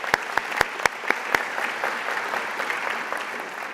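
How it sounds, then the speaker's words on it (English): Audience at a medical school white coat ceremony applauding, opening with a few loud separate claps that merge into steady, even clapping across the hall for several seconds. "How about a round of applause for that?"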